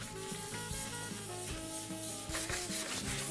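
Rhythmic scratchy rubbing of sandpaper over stained wood, brisk back-and-forth strokes under steady background music.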